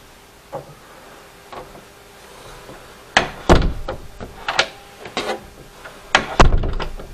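A bedroom door that will not latch is pushed shut repeatedly, giving a series of close, loud thuds and knocks, two faint bumps first, then harder clustered impacts with rattling.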